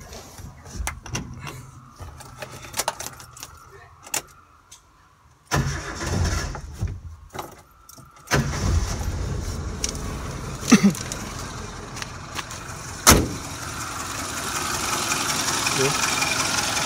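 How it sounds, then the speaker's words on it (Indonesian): A 2001 Suzuki Katana GX SJ410 engine cranks and catches after a quiet stretch, then settles into a steady idle with a few small bumps, heard fairly close. "Coba kita nyalakan mesinnya."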